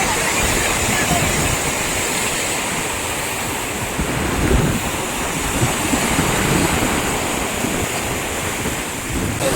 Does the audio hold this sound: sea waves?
yes